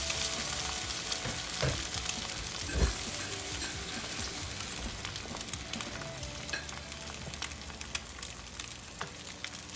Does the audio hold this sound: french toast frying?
yes